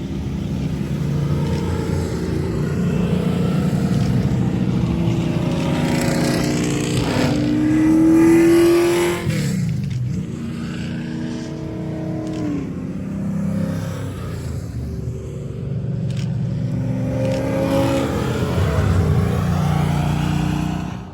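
Race cars, including a Corvette and a Porsche, run on a track during a Motor State challenge day. Engines roar loudly and steadily, rising and falling in pitch as the cars accelerate and pass.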